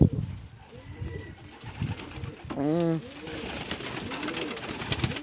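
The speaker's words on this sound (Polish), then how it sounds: "na początku przyjdę do gołębi" Pigeons coo softly nearby, with one clear warbling coo standing out amid low murmuring, and a person briefly makes a short vocal sound.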